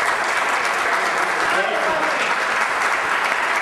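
Steady, loud applause from a crowd, continuous clapping throughout with no pauses.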